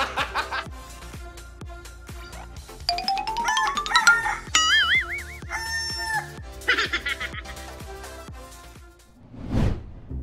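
A rooster crows loudly amid rhythmic clucking and scratching, with a brief burst of noise near the end.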